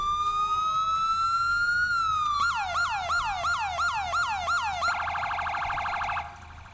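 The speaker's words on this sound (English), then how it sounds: "I've been actually adding more police cars, scripting, and changing sirens up." A police car siren from a GTA police car mod wails in long rising and falling sweeps, then switches to a rapid yelp and a fast pulsing tone, loud and alone until it stops.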